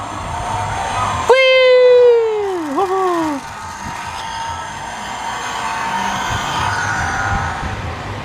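A person's voice mimics a car engine revving while unboxing a toy Ford GT, a loud rising then falling buzzing drone with a second shorter rev, over background room noise.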